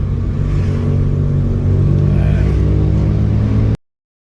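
A Mitsubishi Lancer GSR with a refreshed 4G92 engine on a road test drive: a steady, loud engine drone and rumble held at moderate revs, with a slight rise partway through, then cut off abruptly.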